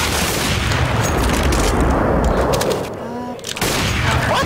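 Gunfire in the video game Counter-Strike: Global Offensive comes as dense, loud, rapid bursts with a brief lull near the end before the shooting resumes.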